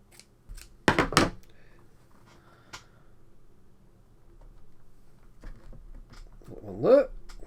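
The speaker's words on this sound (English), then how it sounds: "I'll just approximately cut this" Scissors cut a piece from a roll of adhesive rubber feet during a repair: a few quick snips up close, followed by quiet handling and a brief voice sound.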